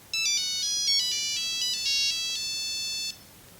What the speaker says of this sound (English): The first one is the Nokia tune,